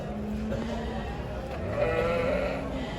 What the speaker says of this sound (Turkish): Evet kuzulu koyunumuz var burada da.